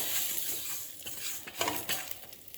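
Vermicelli fries and gets stirred in a pan, giving a light sizzle with scraping and stirring scrapes and small clinks, fairly quiet throughout.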